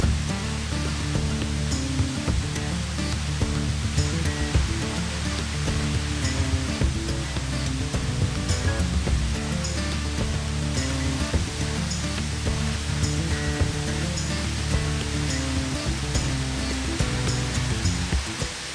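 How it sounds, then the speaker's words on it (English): Lick Creek Falls in Kentucky roars at high flow, throwing off heavy spray: a loud, unbroken broadband rush of falling water fills the whole stretch, steady and close. "there's a lot of spray off the falls because it's roaring pretty good"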